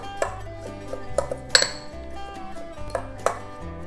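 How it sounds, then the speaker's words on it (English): A utensil clinks against a bowl in a few ringing taps while Parmesan, minced garlic and chopped Italian parsley are mixed together. The strikes are irregular over a low background hum. "we're going to mix that together really well"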